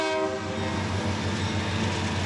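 A train rolls by on busy railroad tracks beside campus student housing, a steady close rumble with sustained horn-like tones throughout, no voices.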